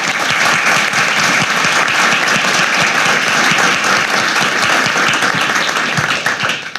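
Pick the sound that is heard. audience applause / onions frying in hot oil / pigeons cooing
audience applause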